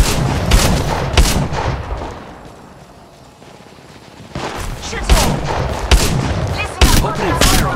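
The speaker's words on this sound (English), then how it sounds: "Opening fire on the enemy." Bursts of automatic gunfire from Apex Legends Mobile, loud and close, in rapid clusters with a quieter lull mid-way, mixed with game effects.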